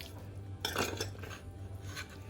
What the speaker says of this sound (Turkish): Hızlıca soğuması için ayrı bir kaba aktarıyorum.